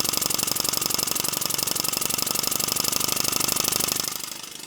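A Märklin 4113/6 donkey steam engine model running steadily with a fast, even chuffing beat, close and continuous, easing off and quieting near the end.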